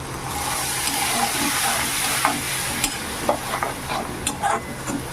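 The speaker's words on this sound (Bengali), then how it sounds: "পানি দিয়ে মশলাটাকে ঢাকা দিয়ে ভালো করে কষিয়ে নিই" Ground spice masala with turmeric and cumin-coriander powder sautéing with a splash of water in a pan for a katla fish curry, a steady close sizzle with scattered stirring scrapes and clinks.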